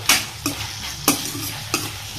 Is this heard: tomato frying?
yes